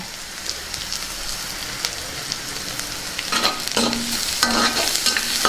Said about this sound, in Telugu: మొత్తాన్ని ఒకసారి బాగా కలుపుకుందాం